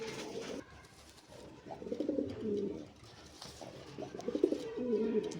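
Racing pigeons coo in a few soft, repeated bursts, fairly close, with a faint background hiss and no talk.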